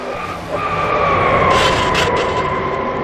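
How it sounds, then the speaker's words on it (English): A race car crashes and skids in a NASCAR racing video game at Canadian Tire Motorsport Park: a loud, rising screech with tonal squeals and bursts of scraping noise, heard alone. "Oh, crash!"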